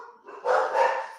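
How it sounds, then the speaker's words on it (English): A dog gives a single sharp bark, close and fairly loud, after a brief lower whine, with no talk over it. "the dogs are going nuts, dude"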